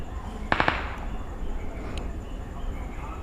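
A battle royale video game fires a quick burst of three sharp gunshots, then a faint single crack a moment later, over low background ambience.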